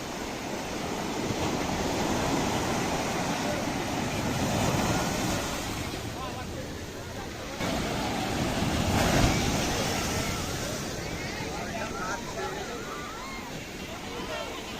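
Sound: sea waves at high tide

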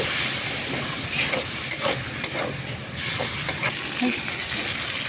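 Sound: sautéing spicy masala with water for snail curry

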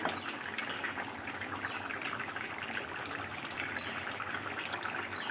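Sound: magur fish simmering in bottle gourd curry

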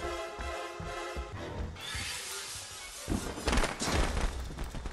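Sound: fireworks exploding in Friday the 13th video game

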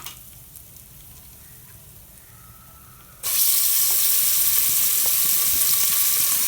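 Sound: sautéing mutton in oil with garam masala

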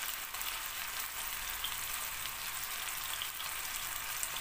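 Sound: hot butter poured over sauce, sizzling

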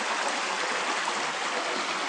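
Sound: water flowing over a small garden waterfall

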